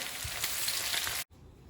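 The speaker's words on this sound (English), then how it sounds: "Add the onions and fry." A soft, steady sizzle of onions frying in hot oil, close by, cutting off abruptly near the end.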